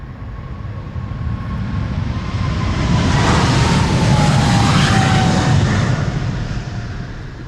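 An airliner takes off from Polderbaan runway 36L at Amsterdam Schiphol on a sunny morning, its broad jet roar swelling over several seconds to a loud, sustained peak and then holding steady and close without any talk.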